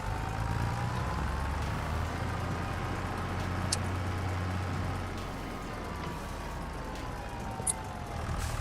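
A little tractor in the Farming Simulator 25 video game drives along with a steady, moderately loud engine drone and a low rumble, its pitch gently rising and falling, with brief faint clicks and no talking.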